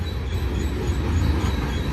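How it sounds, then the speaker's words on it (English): A Union Pacific train heading northbound on the Palmdale cutoff at Cajon Pass, a steady low rumble with faint rail hiss, heard from a distance without talk. "We have another train coming"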